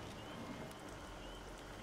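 Rain falls in the video game How to Survive: Storm Warning, a faint, steady patter and hiss that continues evenly without breaks.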